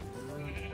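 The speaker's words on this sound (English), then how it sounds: "small animal farm in the event you needed to grab some sheep or whatever" A single short sheep bleat in a Minecraft-style small animal farm, close and clear, a wavering nasal cry with no talk over it.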